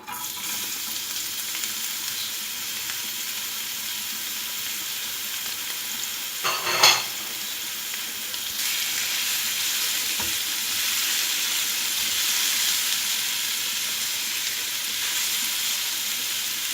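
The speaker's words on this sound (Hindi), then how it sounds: "अब इसी ऑयल में मैं गाजर डाल के फ्राई कर लूँगी।" Carrots frying in oil left from frying raisins for Afghani pulao, a continuous close sizzle and hiss with a brief clatter of stirring midway, no talking.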